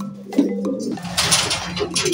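At a pigeon racing loft in Balagtas, Bulacan, a returning racing pigeon arrives with soft cooing and a brief flutter, followed by a burst of rustling and scraping close by.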